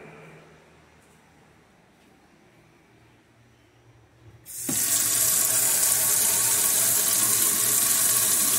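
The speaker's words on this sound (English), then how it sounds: "let's just go ahead and try sticking it under some water" Water runs from a tap onto hot welded steel, starting abruptly after a quiet stretch and continuing as a loud, steady, hissing splash.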